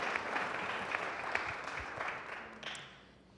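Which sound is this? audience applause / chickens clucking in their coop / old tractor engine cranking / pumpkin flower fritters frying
audience applause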